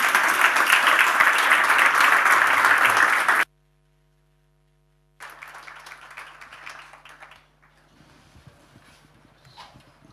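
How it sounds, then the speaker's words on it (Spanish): A church audience at a leadership conference breaks into loud, dense applause that stops abruptly, then resumes more softly after a short silence and fades into scattered claps. "dando un fuerte aplauso al Señor"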